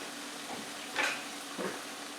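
Food sizzling on a cast iron griddle set across two stove burners, a steady faint frying hiss with two brief brighter stirring or scraping bursts.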